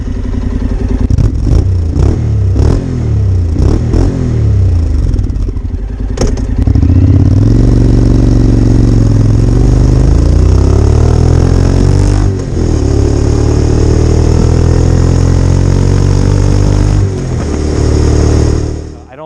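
A Honda NC700X motorcycle fitted with a Yoshimura exhaust: a short clatter of mechanical taps, then a steady deep engine drone that swells as the revs rise and fall, loud and close throughout.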